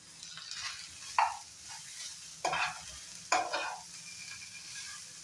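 Potato and carrot pieces are stirred in a pan, three distinct scraping, clattering strokes over a quiet background sizzle, near and fairly soft, with no one speaking.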